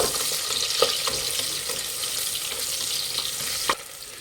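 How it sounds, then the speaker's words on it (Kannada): Sliced onions frying in hot oil with spices in a pan, a steady close sizzle with a few faint stirring clinks and scrapes partway through, no voices. "ಉದ್ದುದ್ದಾಗಿ ಈರುಳ್ಳಿ ಹಾಕ್ತಾ ಇದ್ದೀನಿ ಫ್ರೈ ಮಾಡಿ"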